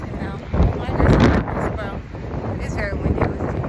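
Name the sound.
wind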